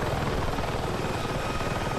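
A helicopter in the video game Battlefield 6 drones with a steady rotor chop and engine whine, loud and continuous for a brief stretch with no talking.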